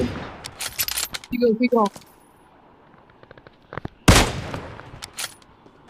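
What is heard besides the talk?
gunfire in video game BGMI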